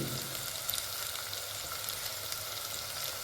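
Gravy masala and chutney frying in a pan, a steady close sizzle with faint stirring, heard alone without talk.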